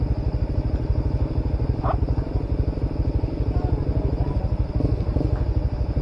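A motorcycle engine putters steadily nearby with a rapid, even chug, and a brief rattle cuts through partway.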